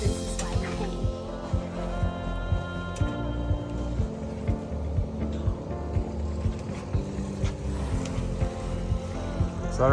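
A fishing boat engine in Canada gives off a steady, rhythmic low chugging and drone, close and continuous, with water and wind noise around it.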